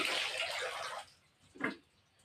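Fresh leafy vegetables are dipped in water, first giving a faint rushing splash, then a short wet slosh after a brief pause.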